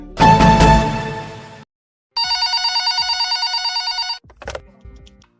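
Telephone ringing for a caller to a Hindi radio quiz show, a loud bell ring, a pause, then a long electronic trilling ring and a short closing blip, close and clear without talk.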